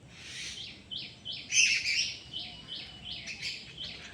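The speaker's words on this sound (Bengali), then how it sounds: "এই যে এই সাইডে পাখিগুলা ডাকাডাকি করতেছে" Several birds chirp and tweet in a repeating series of bright, short calls at dawn among dense trees, fairly close and clear over a quiet background.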